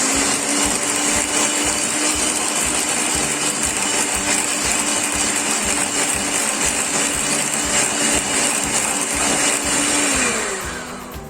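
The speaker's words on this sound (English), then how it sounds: "take your eggs and put 1 egg at the time and whisk it once again" An electric whisk beats eggs into cake mixture one at a time. A steady, loud motor whine runs unbroken for about ten seconds, then winds down at the end.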